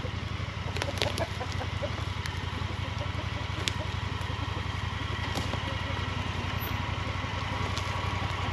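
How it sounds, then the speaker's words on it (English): Side-by-side UTV in four-wheel drive, its engine hauling a loaded trailer up a dry dirt hill, a steady close motor drone throughout with a few faint clucks from chickens. "Now the trick will be to see if I can get it up the hill with the side-by-side."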